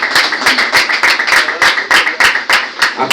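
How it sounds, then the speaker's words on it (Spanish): A church congregation claps together in a steady rhythmic beat, loud and close, the sharp claps repeating evenly about three times a second with no voices over them. "Va a tener un aplauso a Dios"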